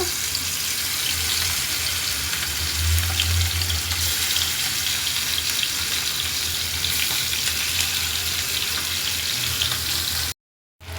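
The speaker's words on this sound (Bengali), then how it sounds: "মুরগিগুলো আমি একটু হালকা ভাজাটা নিলাম" Chicken pieces frying lightly in a pan on a gas stove, a steady close sizzle with watery crackle that holds evenly for about ten seconds before cutting off briefly near the end.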